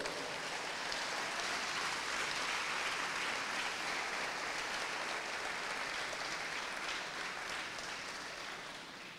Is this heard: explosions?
no